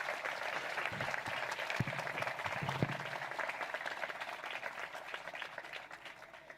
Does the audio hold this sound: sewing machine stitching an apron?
no